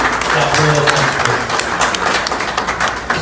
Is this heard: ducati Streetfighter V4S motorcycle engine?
no